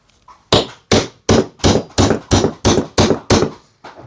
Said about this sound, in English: knock your pin through.